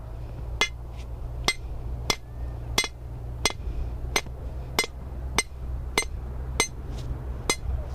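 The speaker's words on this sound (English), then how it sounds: "use a piece of rebar and a sledgehammer to make a hole instead of pounding on the stake" A sledgehammer pounds a piece of rebar into the ground to open a hole for a live stake, giving a steady run of loud, ringing metallic strikes about every two-thirds of a second over a low outdoor hum.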